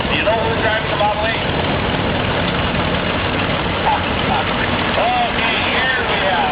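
International Model 8 tractor engine idling and running in a steam threshers' reunion parade, a steady loud rumble with crowd noise and a voice talking over it throughout.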